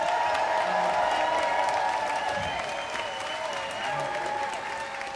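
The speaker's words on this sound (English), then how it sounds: "So give them all a round of applause." Sustained applause from a studio audience at a televised part-time band competition, steady and dense throughout with a faint crowd murmur underneath.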